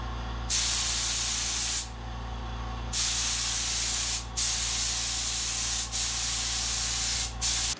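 Spray gun fed by a cheap pancake compressor laying metal flake paint on a custom Harley part, loud hissing bursts of a few seconds each with short pauses between passes, over a constant low compressor hum.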